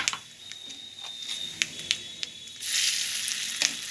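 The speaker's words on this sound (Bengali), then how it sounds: "মাছ ভাজা তেলে দিয়ে দিচ্ছি সামান্য কালো জিরে" Black cumin and a pinch of salt hit hot oil left from frying amudini fish, giving a steady close sizzle with a few sharp crackles and a louder surge of spitting near the end.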